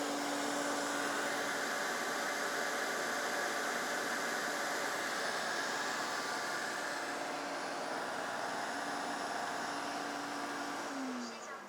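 A Midea V12 robot vacuum cleaner fan hums steadily in standard mode, an even airy rush with a faint tonal whine lasting about eleven seconds before it winds down with a falling pitch at the end.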